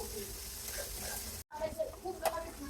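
Food fries with salt in a pan until soft, giving a soft, continuous sizzle with faint stirring clinks and a brief break partway through.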